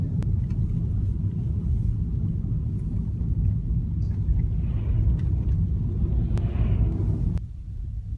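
A car creeps down a hill at about five miles per hour, producing a loud, steady low engine rumble that drops away sharply near the end, with no talking.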